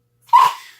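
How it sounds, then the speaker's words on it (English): A single short, breathy bark or huff from a dog, close by, sounding alone against silence. "That's my dog. He wants me to pay attention to him."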